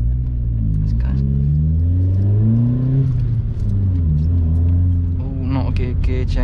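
Vauxhall Corsa driving through town on a cold night, engine droning steadily close up with a rough gear change and revs shifting, under continuous talk.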